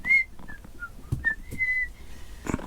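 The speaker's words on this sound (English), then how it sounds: "I'm doing the cleaning whistle." A person whistles a light, wandering tune in short phrases while cleaning a motorhome, with faint knocks and household movement between the notes and no talking.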